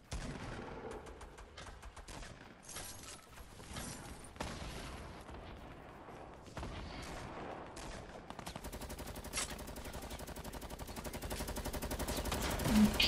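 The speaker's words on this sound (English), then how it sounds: "That is just an assault rifle." Rapid automatic assault rifle fire in the video game Fortnite, dense bursts that build and grow louder toward the end, with no talk over the shooting.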